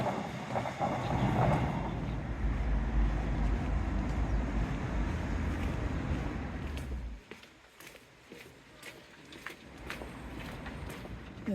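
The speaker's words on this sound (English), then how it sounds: "Train, can hear it" Low rumbling of a train passing nearby, steady and heavy, fading out partway through to quieter outdoor sounds with faint clicks.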